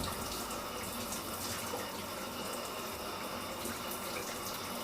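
Shower water runs steadily and close by, a continuous dense hiss of spray that holds unbroken from start to end with no voices.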